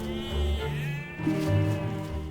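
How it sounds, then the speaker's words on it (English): A mountain goat in a Chinese mountain forest gives two drawn-out, wavering bleats, loud and close, with a brief pause between them. "His bleats send one of the younger family members into a panic."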